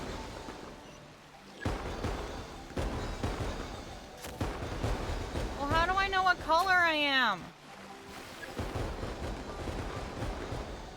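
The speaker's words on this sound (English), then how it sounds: "Oh, it was the fireworks." Fireworks burst in Genshin Impact during the Lantern Rite festival, a series of booming and crackling explosions with whistling rising tones, heard under frequent talking.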